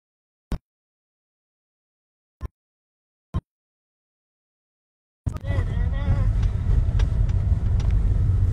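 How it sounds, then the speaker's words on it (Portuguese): A car rumbles along near a beach, its engine and road noise rising suddenly after a few sharp isolated knocks and then holding a steady, close, loud drone with some wind buffeting. "Tem que achar um lugar pra estacionar o carro."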